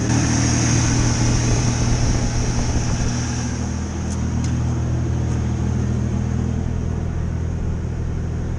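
A Ford Ranger 3.0 V6 that is not firing on all six cylinders runs rough and revs, a steady loud engine rumble that carries on without a break through the whole stretch, with nobody talking.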